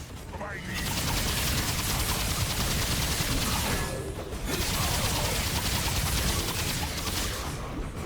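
Sustained rapid gunfire in the shooter game Remnant 2, a loud dense burst running most of the time with a brief lull midway before firing resumes.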